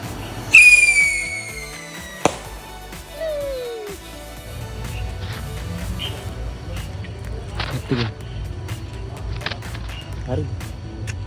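A whistling firecracker set off during Sinhala New Year celebrations, with a loud rising-then-falling whistle near the start, a sharp bang, then a fainter second whistle, followed by background activity and distant pops.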